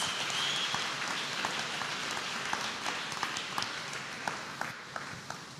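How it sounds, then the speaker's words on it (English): A congregation claps hands for Jesus at a church healing testimony, a rain-like patter of scattered claps with a few sharper nearby hits, steady and moderately distant throughout. "Clap hands for Jesus"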